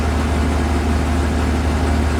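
A car engine with a suspected knock sensor fault runs under throttle, producing a steady, close, loud low drone with a faint mid-range roughness and no clear rise in pitch during these two seconds.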